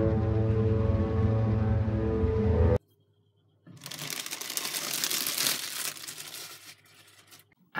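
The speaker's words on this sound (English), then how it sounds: "taking plastic bags off new things is satisfying whether you like it or you don't." Plastic bags crinkle and rustle loudly and continuously for several seconds as they are pulled off new reptile-enclosure gear, a ceramic reflector clamp dome and thermometers, after a short tonal passage and a brief silence.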